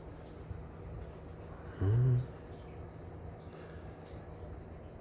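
Steady, high-pitched cricket chirping continues throughout a reptile shop at night, with a brief low thump partway through.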